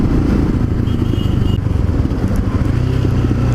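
Royal Enfield Himalayan motorcycle engine braking while riding through the city, a loud close-up rumble and exhaust burble that stays steady with wind noise throughout.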